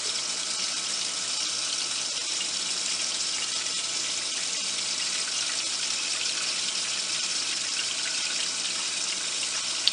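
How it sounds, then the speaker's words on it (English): Water drains from an aquarium GFO reactor into a plastic shaker cup as a steady, unbroken splashing stream, close and even throughout. "So we take a regular old shaker cup and we'll catch any of the water that comes out."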